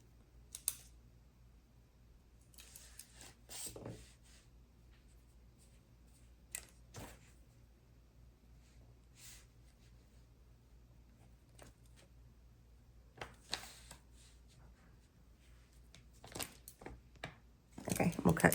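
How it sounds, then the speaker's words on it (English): Scissors cutting paper strips for a planner setup, with scattered crisp snips and clicks, close and fairly quiet, plus louder rustling and handling near the end. "Okay, we'll cut two strips."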